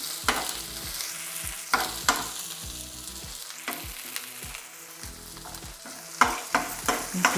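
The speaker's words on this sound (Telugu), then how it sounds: "ఇలా ఫ్రై చేసుకొని" Cashews fry in oil in a pan with curry leaves, a steady sizzle broken by regular scraping stirs and sharp spoon knocks against the metal, close and fairly loud.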